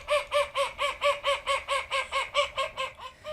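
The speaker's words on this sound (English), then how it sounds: "And this one is the urban quacking." An urban duck in London quacks in a fast, steady series of about a dozen loud, raucous calls, evenly spaced and close, with no other sound.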